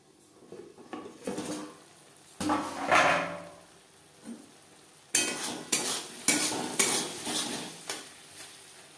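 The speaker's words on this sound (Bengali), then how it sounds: "বেশ ভালো করে পেঁয়াজ টমেটো মশলা কষিয়ে নেওয়া হয়ে গেছে" Onion, tomato and spices cooking in a pan for a Latha fish curry, with a utensil stirring and scraping against the pan in uneven bursts. A soft sizzle sits beneath the clatter of cookware.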